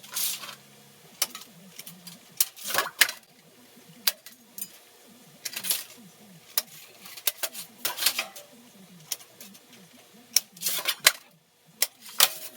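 Sheet metal for a motorized backdraft damper being trimmed with snips along a scribed line, making a series of sharp, irregular metallic clicks and crunching cuts up close, spaced by brief pauses amid faint background chatter.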